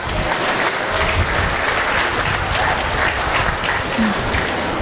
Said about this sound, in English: Let's give all of our showmen a big round of applause.